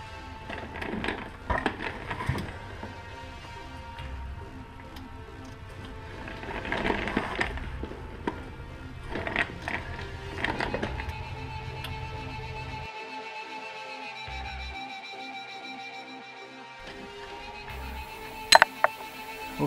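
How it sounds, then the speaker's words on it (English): Wrench and socket work on the rear differential case of a 2007 Dodge Durango, with intermittent metallic clinks, ratcheting and scraping spread over quiet stretches, fairly faint and close, ending with a couple of sharper taps. "Now we'll start removing the crankcase bolts."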